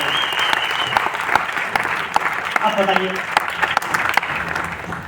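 Light audience applause at a success celebration event, with scattered claps running throughout and someone speaking over them.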